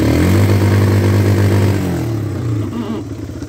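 A four-wheeler ATV engine revs loudly and close, holding a strong steady drone before dropping back to a rougher, lower idle.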